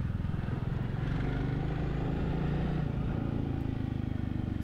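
A 2025 Royal Enfield Bullet 350 single-cylinder engine runs under throttle, a dense, steady low rumble with a fast pulsing beat, loud and close throughout with no talk.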